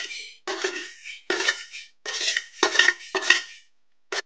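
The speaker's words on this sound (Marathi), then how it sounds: "आता आपण टाकू धने" Coriander seeds rattle into a dry pan for roasting while soybean and egg bhaji is being made, in about six close, gritty bursts of scattering and scraping separated by short silences.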